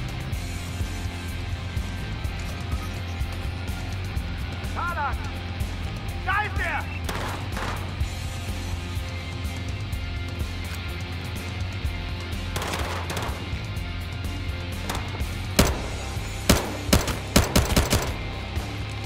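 Gunfire in the video game Battlefield Hardline, with sparse isolated shots over a steady in-game background, then a louder cluster of several sharp shots near the end.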